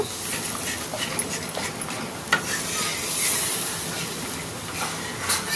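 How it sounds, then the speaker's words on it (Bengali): Water is stirred into a fried spice paste for a bele fish jhal curry, giving a wet, churning sizzle with soft scraping and clinks of a spoon against the pan, steady and close. "জলটা ভালো করে মশলার সাথে মিশিয়ে নেব।"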